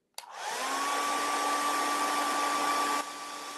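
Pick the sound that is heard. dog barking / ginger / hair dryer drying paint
hair dryer drying paint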